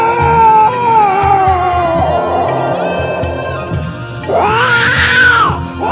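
A voice imitates an angry cat yowling and caterwauling at an intruding cat, long wavering wails that rise and fall continuously over about six seconds, loud and close with no other talk.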